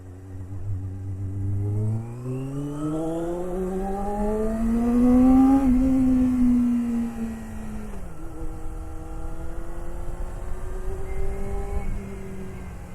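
Yamaha FZR400RR motorcycle with an aftermarket exhaust revving up through rising pitches then dropping back, a throaty, fairly loud exhaust note with no talking.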